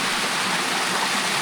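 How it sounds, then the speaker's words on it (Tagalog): Water gushing and streaming out of the rock inside a mountain, a steady, close, broadband rush like a small waterfall or fast stream, continuous with no talk. "At kung saan saan naglalabasan yung mga tubig."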